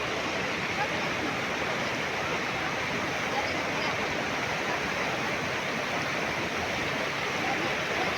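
Dense, steady rush of a swollen river surging after rain, a broad roaring wash with no breaks, loud and close throughout.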